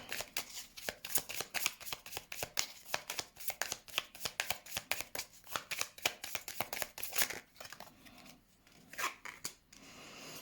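Oracle cards are shuffled by hand in quick, crisp riffling bursts, close and fairly quiet, a steady run of rapid papery flicks with short pauses near the end and no talking.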